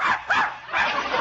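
A dog-barking sound effect in a 1948 radio comedy: a few close, loud yips and barks with brief whimpering gaps between them.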